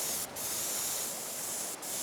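Spray paint hisses steadily onto a painting board, a continuous close airy spray broken by two brief pauses, with no talking.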